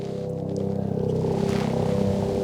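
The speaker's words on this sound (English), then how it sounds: "You can hear the helicopter right now going out." A tour helicopter flies near Canmore, Alberta, a mountain skiing and sightseeing area. It is a steady, distant, low droning rumble with a fast pulsing throb, heard alone for a few seconds.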